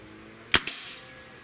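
A single sharp crack from a Hatsan 135 .30 caliber air rifle being fired, close and loud, followed by a quick second report or impact echo, then quiet.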